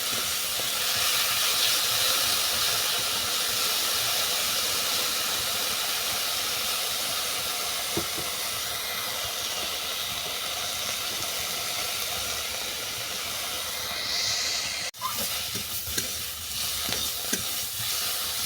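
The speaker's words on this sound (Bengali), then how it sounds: "মেথি শাকটাকেও নেড়ে করে ভালো করে ভেজে নিচ্ছি" Fenugreek leaves being stir-fried in oil for a vegetarian chorchori, giving a steady broad sizzle and hiss with occasional scraping stirs and a brief clunk near the end.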